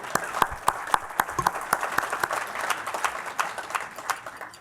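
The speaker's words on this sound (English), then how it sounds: "That deserves an applause." Audience applause at a university talk on Latino politics in California, with distinct sharp claps at first, then a denser, uneven round of clapping that continues steadily before easing slightly.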